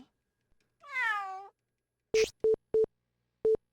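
A cat in the video game Undercover AD2025 Kei gives one clear, drawn-out meow, followed by a series of short, evenly spaced electronic beeps like a busy signal.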